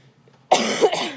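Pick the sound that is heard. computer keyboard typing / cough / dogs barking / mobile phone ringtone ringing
cough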